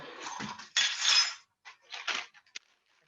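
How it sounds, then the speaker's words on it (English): Metal measuring spoons clink and jangle together in a home kitchen while being pulled out to measure Italian seasoning for hamburger soup, with a few bright rattling bursts close by, then a sharp single clink. "get my measuring spoons out"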